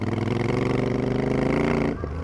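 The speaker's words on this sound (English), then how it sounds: "And I am on the Kawasaki Ninja 500." A Kawasaki Ninja 500 motorcycle engine running with a steady, throbbing hum that cuts out abruptly near the end.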